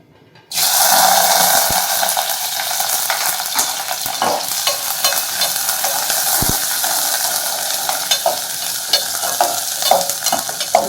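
Chopped small onions and green chillies drop into hot oil for a Tamil onion kuzhambu, setting off a sudden loud sizzle that continues as a steady, close frying hiss with occasional clicks of a stirring spoon.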